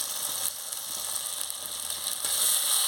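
Chili powder and spice paste sizzling in hot oil while chicken curry is frying, a steady close hiss with faint scraping and stirring clicks, slightly louder near the end, with no one speaking.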